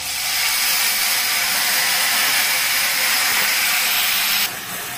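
Spices hit hot oil in a pan over a lowered gas flame while cooking dahi potol, a bright steady sizzling hiss that holds strongly before dropping off abruptly near the end.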